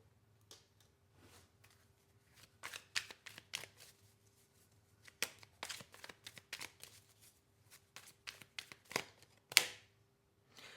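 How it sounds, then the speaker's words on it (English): Tarot cards are shuffled by hand in a series of soft, quick riffling and slapping bursts, close and fairly quiet, with brief pauses between them. "let's pull a few cards on this person"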